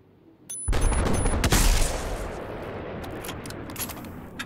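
Gunfire in Battlefield 4 erupts as a dense burst of shots and booms, loud and close at first, then trailing into a rumbling, crackling wash of distant fire.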